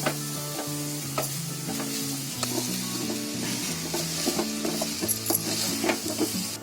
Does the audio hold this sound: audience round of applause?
no